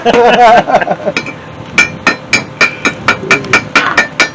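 A hammer chips slag and flux off a fresh weld, a run of about a dozen sharp metallic taps in a quick, fairly even rhythm, following a short stretch of someone talking.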